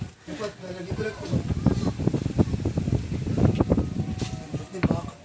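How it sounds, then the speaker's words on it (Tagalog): Strong wind buffets the microphone outdoors in a steady, rough roar, heard throughout beneath people talking. "Ang lakas ng hangin."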